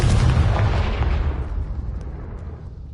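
A Confringo fire spell bursts in a Hogwarts video game, one loud booming explosion that hits at once and then rumbles away over a few seconds, with nothing else over it.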